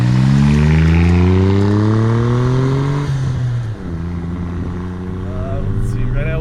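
A modified 1991 Suzuki Cappuccino engine revs up hard, its pitch climbing steadily, then drops briefly after a gear change before rising again. It is loud and close inside the cabin, with a voice speaking over it.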